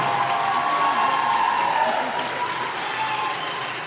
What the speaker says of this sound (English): Can we have a big hand for the 2022 marching Wall of Sound?